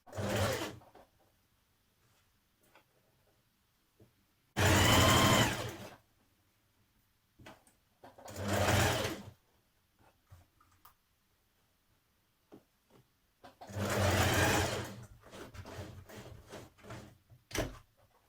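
A sewing machine sews the underarm seam of a jacket in short separate bursts of loud, close stitching, with quiet pauses between runs.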